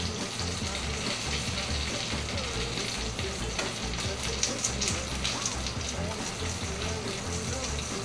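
Plaice fillets frying in a pan give a steady, close crackling sizzle with faint stirring and spatter throughout, with no pauses.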